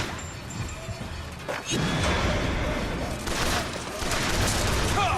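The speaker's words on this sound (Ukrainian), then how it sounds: "Цього пристрелив. І цього пристрелив." Gunfire from shooting enemies in the video game Bioshock Infinite, a dense, loud barrage of rapid shots and crashing impacts with a brief lull near the start, heavy and continuous.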